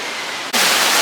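Waterfall pouring into an aquarium tank, a dense hiss of rushing water that starts abruptly about halfway through after a quieter stretch, then stays steady and loud.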